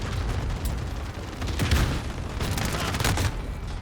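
Gunfire in the Call of Duty video game comes as dense, overlapping bursts and booms with no letup, heavy and close, with no voices over it.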